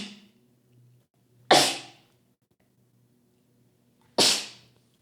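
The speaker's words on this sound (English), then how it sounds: "I have to sneeze" Two sharp, loud sneezes close to the mic, spaced a few seconds apart, each a sudden burst that fades quickly, with a faint voice murmuring before the first and quiet in between.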